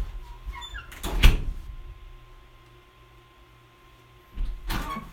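An indoor door is shut, giving a sharp, close thud early on and another bump near the end, with a quiet room in between.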